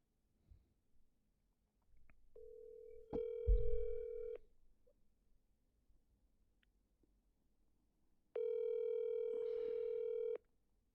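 A telephone call being placed: a steady dial tone comes in, a few clicks follow, then a long ring tone sounds by itself near the end. There is no talk over it.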